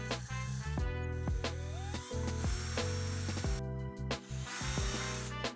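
A small drill with a 2.5 mm bit boring into a bicycle brake lever, whining in short bursts with pauses and hand handling between, close and fairly loud.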